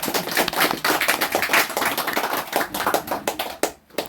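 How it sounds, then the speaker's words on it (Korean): An audience at a lecture on well-being and dying well claps at a strong, quick, uneven rhythm, with sharp separate hand claps from a room of listeners that fade out near the end. "박수 한번 부탁합니다."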